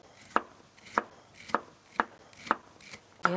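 A knife trims fennel on a cutting board, with six sharp, evenly spaced chops about half a second apart, close and clear with no talking.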